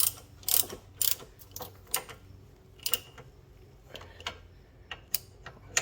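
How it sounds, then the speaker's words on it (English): A ratchet or torque wrench tightens brake caliper bolts on a 2009 Toyota Prius. Sharp, close mechanical clicks come in irregular bursts over a quiet background, with no speech. "I usually torque it so I can't move it with a torque wrench"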